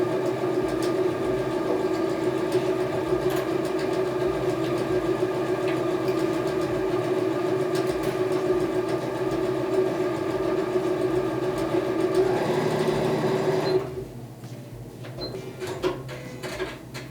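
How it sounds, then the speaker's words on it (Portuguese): A sewing machine stitches a straight seam on a fabric pencil case during a patchwork class, running as a steady, continuous mechanical hum for about thirteen seconds before stopping, leaving quieter room sound. "E passo uma costura reta aqui"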